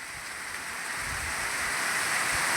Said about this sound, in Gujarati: હજી વરસાદનું જોર ચાલુ જ છે.